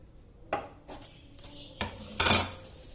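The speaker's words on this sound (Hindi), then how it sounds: "अब इसे दरमियान से इस तरह काट देना है" A knife cuts through layered balushahi dough on a board in a few distinct strokes, with soft scraping taps and one louder final cut, close and clear.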